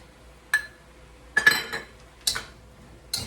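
A utensil scraping sauce out of a container over Swiss chard, giving four separate close clinks and short scrapes spaced out, with quiet gaps between them.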